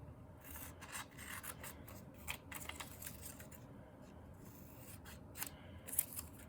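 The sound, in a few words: scissors cutting out paper triangle shapes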